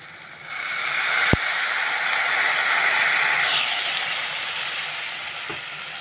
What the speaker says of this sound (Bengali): বন্ধুরা, এবারে দিয়ে দেবো জল।